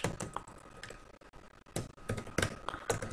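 Fast typing on a computer keyboard while entering R code, with irregular bursts of crisp key clicks and short pauses between them, close and fairly quiet.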